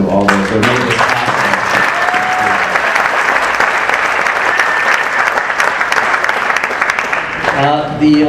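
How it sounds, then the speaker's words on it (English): An audience at a GI Film Festival venue claps loudly and steadily for several seconds, with a voice speaking briefly at the start and end. "So a big round of applause to all those who made this happen."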